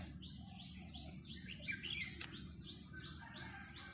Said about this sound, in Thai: ตามไปดูตัวนก ได้ยินแต่เสียง